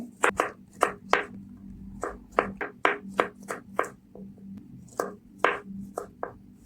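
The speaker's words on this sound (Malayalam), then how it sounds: "വെളുത്തുള്ളി നൈസായിട്ട് കട്ട് ചെയ്തെടുക്കേ." Garlic is chopped finely with a knife on a board, a run of crisp, close knocks at an uneven, fairly quick rhythm, heard alone with no talk.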